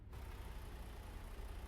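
A low, steady engine rumble from a big rig in American Truck Simulator, a faint continuous drone with broadband hiss and no voices.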